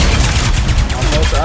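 Rapid weapon fire in Ratchet & Clank: Rift Apart, a dense, loud, continuous burst of shots layered with game effects and a voice underneath.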